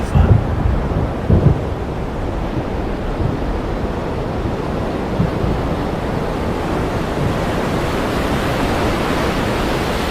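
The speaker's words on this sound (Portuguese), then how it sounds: "A beleza dos trovões." Stormy outdoor scene with dense, steady broadband rumble of rain, wind and sea, a few low thunder thumps in the first couple of seconds, then a continuous roar; no voices.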